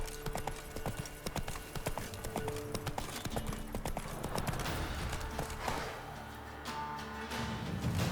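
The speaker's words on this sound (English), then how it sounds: "Run, Roach." Hooves clop in a fast, steady rhythm as a horse gallops in The Witcher 3: Wild Hunt. The sound is continuous and fairly faint, with a brief whinny-like sound and other game sounds mixed in.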